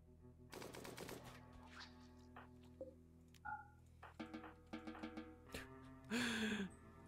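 Rapid bursts of gunfire in the RimWorld video game, a few clustered rattling volleys scattered over several seconds against a steady background hum, ending in one louder, longer blast.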